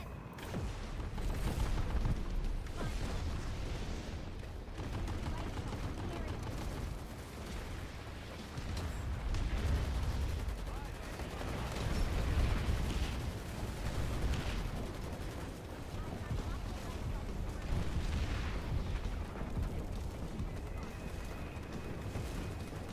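Gunfire crackles and thuds through a PlanetSide battle, a continuous busy stream of shots and blasts at moderate loudness, with voices talking now and then.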